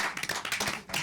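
A brief burst of light, scattered hand clapping comes from the audience at an Oregon gubernatorial primary debate, close and fairly soft, lasting about a second.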